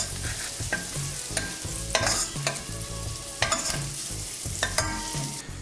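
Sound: pancetta and garlic frying and being stirred in a pan

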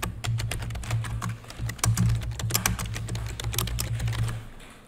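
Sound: typing a SQL select statement on a computer keyboard

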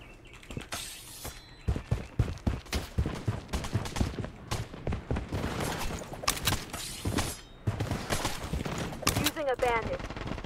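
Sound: gunfire in the video game Blood Strike

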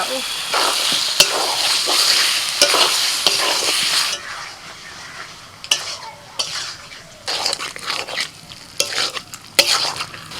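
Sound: frying potatoes stirred in spice paste

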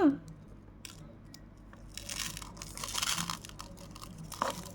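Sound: paper bubble tea powder packet being torn open

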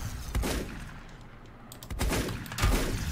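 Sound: gunfire in video game Volcanoids

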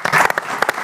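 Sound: audience applause for comedy guest

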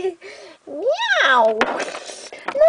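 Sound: cat meowing

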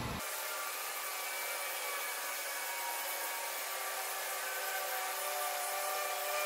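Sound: heat gun on high heating PVC pipe

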